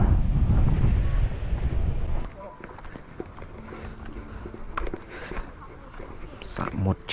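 Wind buffets the microphone in a forested highland area of Mondulkiri, a loud low rumble for the first two seconds that then drops away, leaving quieter outdoor noise with scattered knocks and voices talking.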